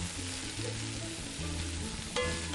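Cauliflower and carrot fry in oil in a pan, a soft steady sizzle with low rumbling underneath and a brief sharper clatter near the end, fairly quiet and close, without talking.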